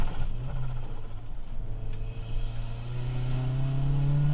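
A front-engine, rear-drive sports car climbs a winding mountain pass, its engine droning steadily and then rising in pitch as it accelerates, loud and close from inside the cabin with no talking.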